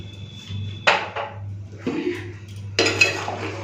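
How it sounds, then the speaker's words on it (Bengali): Mutton curry with papaya and potato is poured from a pot into a pressure cooker, with three sharp metallic clanks and scrapes of cookware between quieter stretches and a low background hum. "চলুন প্রেশার কুকারে ঢেলে দিই"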